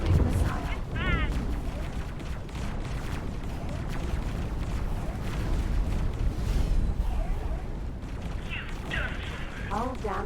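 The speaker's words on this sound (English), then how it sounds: "Incoming missile." Missile explosions and booming impacts in the space game X4: Split Vendetta, a dense, loud, continuous barrage of blasts and mechanical rumble throughout, with a person talking over it.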